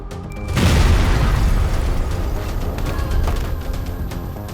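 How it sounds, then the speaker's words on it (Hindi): A truck loaded with drugs blows up in a drama scene: a loud, deep boom swells in and then a long rumbling roar holds for several seconds, with no talk over it. "कोयल और अभय ने अटवालों के ड्रग्स का पूरा ट्रक उड़ा दिया।"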